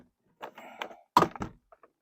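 A door panel on a 1994–2001 Acura Integra is worked free from the door. A few short plastic knocks and clunks come up close with brief scraping between them, separated by near-silence.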